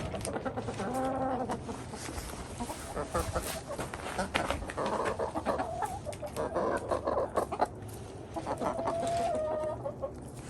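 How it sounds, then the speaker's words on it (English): Chickens cluck and squawk close by in a farmyard during cold Alaskan days, with busy overlapping calls, occasional louder squawks and a rooster-like note, continuing steadily without talk. "I'm going to go and give this to my chickens and see what they think about it."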